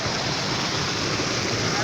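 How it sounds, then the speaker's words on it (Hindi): Fresh water gushes from a tubewell out toward cotton fields in rural Pakistani Punjab, a continuous broadband rush and splash, loud and close, steady throughout the short stretch. "और ये ताज़ा ताज़ा पानी वो ज़मीनों की तरफ जा रहा है"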